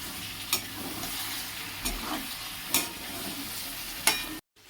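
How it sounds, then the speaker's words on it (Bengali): Soya chunks are stirred in a hot pan with cinnamon and a little sugar, a soft steady sizzle broken by several sharp scrapes and knocks of the spatula, then a sudden drop to near silence at the end. "এবার আমি আবার কষবো"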